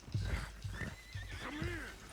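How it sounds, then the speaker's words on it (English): Stallion neighing in the video game Red Dead Redemption 2, several loud whinnies with a rising squeal near the end, over hoof clip-clops and a faint voice underneath. "One of the stallions is loose."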